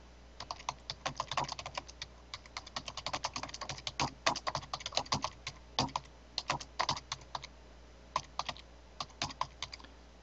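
Rapid, uneven keystrokes on a computer keyboard as a search query about the weather is typed, clicking steadily and fairly close for about ten seconds, with no talking.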